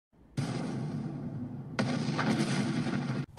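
A movie grenade blast erupts as a loud, sustained roar with a brief break and a second surge of debris and rumble, ending in a sharp hit.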